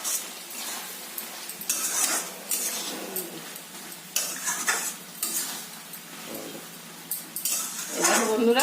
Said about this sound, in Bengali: ধনেপাতাগুলো দিয়ে দিচ্ছি, দিয়ে একটু নাড়াচাড়া করে দেই।